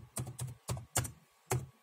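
Five crisp keystrokes tap out on a computer keyboard while a Windows boot-repair command is entered, close and clear in an irregular rhythm with short gaps and no talking.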